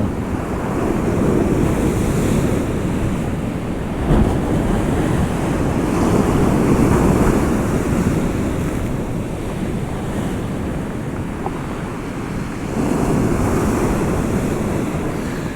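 Sea waves surge and break on the East Coast shore at Kilnsea, with steady wind buffeting the microphone; the surf swells loudly and recedes in repeated rolling washes with no voices.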